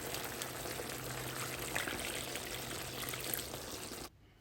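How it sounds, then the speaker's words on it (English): Water pours steadily into a pot of Jamaican brown stew pork for about four seconds, a continuous splashing trickle with no talk, before cutting off abruptly. "And then I added some more water"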